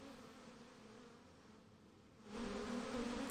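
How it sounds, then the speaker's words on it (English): Flies buzz around outdoors in a steady, continuous drone that grows louder and closer near the end. "Not with all these flies buzzing around."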